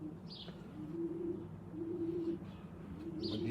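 Racing pigeons cooing in a loft during a national race, with soft, repeated low coos rolling along steadily at moderate volume.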